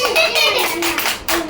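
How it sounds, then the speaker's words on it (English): Young children in a UKG classroom clap their hands together in a quick burst of scattered claps, loud and close, with children's voices mixed in. "Give good clap to Dhruvan."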